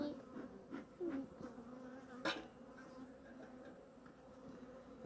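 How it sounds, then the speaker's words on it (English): Honey bees swarm around an opened backyard hive, buzzing continuously close to the mic, with individual bees droning past and a brief knock partway through. "that's a lot of bees"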